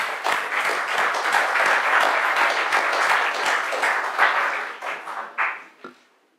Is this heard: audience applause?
yes